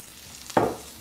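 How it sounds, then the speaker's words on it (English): Baby artichokes with garlic in a pan: a single sudden burst of sizzling as they hit the hot surface, fading over a fraction of a second against a quiet background. "saute these artichokes along with the garlic for about a minute"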